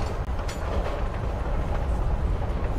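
Steady train-riding ambience from the video game Life Is Strange: Before the Storm: a continuous low rumble with faint rattling, even and unbroken throughout.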